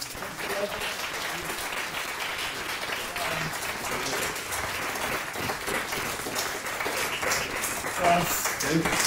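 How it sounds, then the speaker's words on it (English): Audience at a fireside chat event applauds steadily for the guest, a dense, even wash of clapping lasting throughout, with a voice briefly audible near the end. "give him a, a, huge round of applause"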